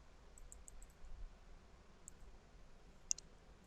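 Faint, sharp computer mouse clicks, a few single and double taps scattered over a quiet hiss, with one slightly louder click near the end.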